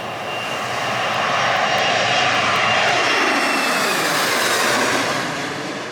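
A loud jet airplane takes off low overhead at Airplane Beach, Sint Maarten, the broadband engine noise swelling to a peak and then slowly fading as it passes.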